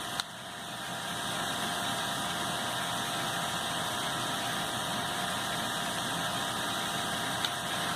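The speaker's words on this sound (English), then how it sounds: "So I'm just going to try it on its top speed and see how close to being accurate the rating is on the motor itself." An electric motor runs at its top speed with a steady, even whine and hum that holds at constant loudness throughout, close and alone.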